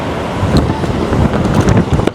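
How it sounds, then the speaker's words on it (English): Strong wind gusting outdoors on a street in Hartford, Connecticut, a steady loud buffeting rumble against the microphone with uneven surges and no voices. "the wind's really picking up"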